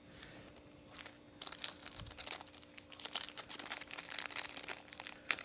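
Plastic packaging crinkles and crackles close up while a Hot Toys Boba Fett figure is unboxed, quiet at first, then growing into busier, denser rustling bursts.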